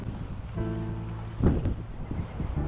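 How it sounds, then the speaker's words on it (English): Atlantic Ocean surf rolls onto the beach at Isle of Palms, South Carolina, in November: a steady broad wash of waves with wind buffeting the microphone, a low humming tone in the middle, and one louder surge. "The Atlantic Ocean."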